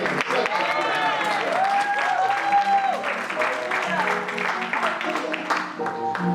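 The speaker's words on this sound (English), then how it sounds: "Can we put our hands together for Jesus this morning?" Church congregation applauding during a morning service, steady clapping with crowd noise and musical tones from the band mixed underneath, fairly loud throughout.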